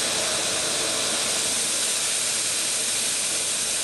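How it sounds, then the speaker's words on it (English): A steady, broadband hiss of escaping steam pressure from a steam cleaner used to clean vape atomizers, continuous and fairly loud throughout with no voices. "turn it real slow so you can get the amount of pressure you want"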